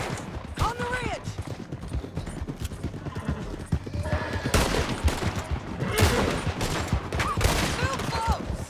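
In Red Dead Redemption 2, rapid galloping hoofbeats pound beneath bursts of gunfire, with shouted voices breaking in now and then; loud and busy throughout.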